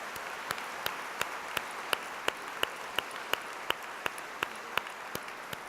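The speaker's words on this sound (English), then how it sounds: "let's have a round of applause for all of our girls" Steady applause from an audience at a school scholarship awards ceremony, sustained clapping for several seconds with a regular sharp clap or tap recurring at even intervals through it.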